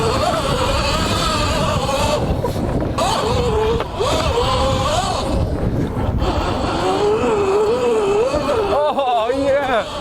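An electric motocross MTB hybrid rides through snow in its third power mode, its motor whining and rising and falling in pitch continuously under heavy rushing wind buffeting the microphone.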